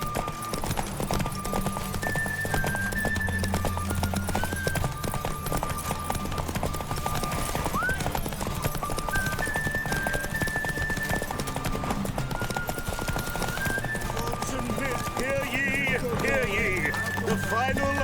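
Roach the horse galloping in a derby race in The Witcher 3, rapid rhythmic hoofbeats under a dense game mix with music and voices speaking over the running.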